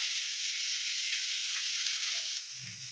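Idli upma frying with tomato on a medium flame makes a steady, close hiss of sizzling. The sound eases slightly at the end, where a brief low knock is heard.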